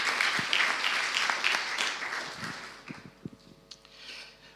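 An audience at a solar energy industry conference applauds the speakers, a burst of dense clapping that thins out into scattered individual claps before fading.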